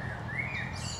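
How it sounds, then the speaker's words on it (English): Birdsong in Sheringham Park, with a clear rising and falling whistled call close by and higher chirps joining near the end, over a soft low outdoor background with no speech. "the plethora of birdsong in this place"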